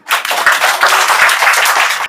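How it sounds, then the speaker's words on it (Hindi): Schoolchildren in a classroom clap for a classmate in a quick burst of loud, close applause from many small hands. It lasts about two seconds with no talking. "अर्नब के लिए ताली बजाओ।"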